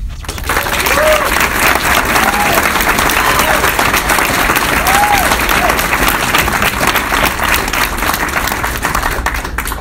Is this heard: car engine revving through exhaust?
no